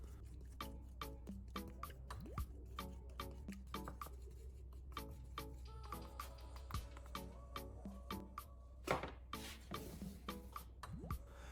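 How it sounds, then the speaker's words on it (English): A spoon stirs a thick toothpaste mixture in a bowl for headlight restoration, giving a steady run of quiet, close, wet squishing and scraping strokes in an irregular rhythm. "Use a spoon to mix everything together. Keep stirring until the mixture becomes thick and smooth."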